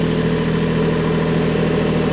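A vehicle engine runs steadily at raised RPM while hauling an oak firewood trailer, a constant mid-low drone heard alone with no voices.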